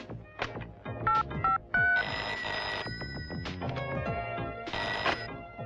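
A telephone rings close by in short repeated electronic bursts within a tense scene from a 1999 Bollywood action film, with light clicks and background scoring around it and no talking.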